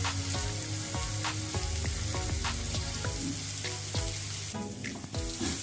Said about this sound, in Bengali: এখন আমি এটা একটু নাড়াচাড়া করে নিলাম, একটু ভাজা হোক।